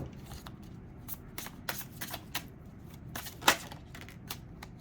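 Tarot cards being shuffled by hand in quick, crisp riffles and flicks, close and fairly quiet, with one sharper snap near the end and no talking.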